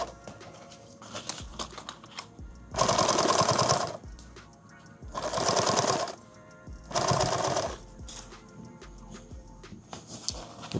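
Three bursts of fast, rattling sewing machine stitching on a six-mag active shooter bag, close and loud, with quieter handling noises between runs and no speech.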